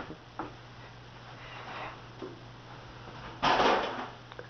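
A top drawer being broken indoors: a few scattered thumps and knocks, then a louder crash and rattle near the end, with a low steady hum underneath.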